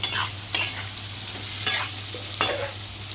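Green chillies roast in a pan with a low, steady sizzle broken by a few sharp stirring scrapes and pops, close and fairly quiet, with no voices.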